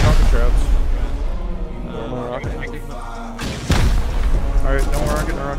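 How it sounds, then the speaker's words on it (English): Rocket explosions during a raid in the video game Rust land as two deep, heavy booms, heard under near-constant talking from players. "One more rocket."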